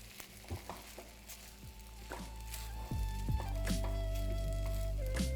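Sago and a bay leaf being stirred in hot ghee in a pan, with a steady sizzle and scraping strokes of the spoon, close and continuous with no talk.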